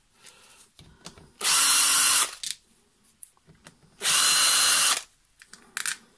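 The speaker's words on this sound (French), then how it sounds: "il suffit d'enlever, de desserrer les deux vis qui la retiennent au carter" A power tool loosens the two screws holding the lubrication pump to the crankcase of a DTMX engine, in two loud, close bursts of about a second each, separated by quiet handling clatter.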